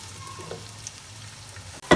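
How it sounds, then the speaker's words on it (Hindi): Two medium-sized chopped onions sizzling in hot oil in a pan for chana pulao, a soft steady frying hiss with a sharp louder burst of sizzle right at the end. "प्याज को हम कर रहे हैं ऑयल में फ्राई"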